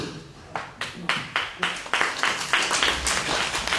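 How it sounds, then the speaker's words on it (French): Applause from an audience at a lecture at the MUCEM museum in Marseille starts as a few distinct, evenly spaced claps and quickly thickens into a fuller, close round of clapping. "pas obligé d'applaudir, on est entre nous"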